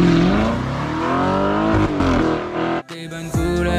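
An Audi R8 sports car engine revs loud and close, its pitch sliding down and then climbing again, with a sudden drop and a fresh burst of revving near the end.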